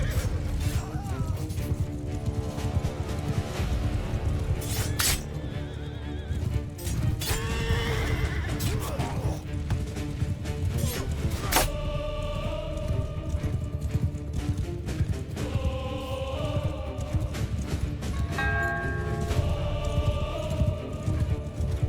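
Enemy cavalry horses charge in a medieval battle game, with repeated whinnies and neighs over a steady rumble of hooves and clashing, loud and continuous throughout.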